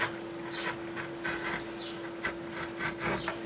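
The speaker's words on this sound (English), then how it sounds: "so you get better movement when you're trimming with your knife." A knife trims the edge of an MDF board for a baby bottle kit, giving soft, repeated rasping scrapes in short strokes, close and fairly quiet over a steady electrical hum.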